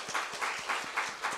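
Congregation members in a church service clap, a quiet, fairly even run of claps heard at a distance.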